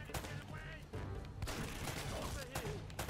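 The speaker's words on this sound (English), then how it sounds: "Stop getting in the way of me shooting the barrels." Gunfire from the video game Uncharted: Drake's Fortune, a dense, continuous burst of rapid shots and impacts running throughout, loud and busy, with a voice talking over the game audio.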